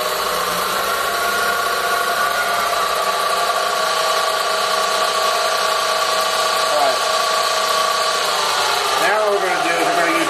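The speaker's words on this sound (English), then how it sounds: "it's three-phase power, so I got the three-phase motor running in the back of the slave motor" Variable-speed drill press with a three-phase motor running steadily, a constant mechanical hum and whine with light talk over it.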